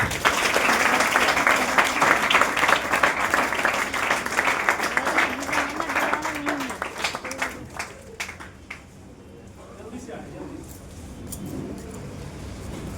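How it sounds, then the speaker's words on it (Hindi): Loud applause from a crowd at a company stage event in India, dense clapping that stays strong for several seconds, then thins and fades to scattered claps and room noise, with no voices over it. "उन सभी लोगों को लेकर जोरदार ताली"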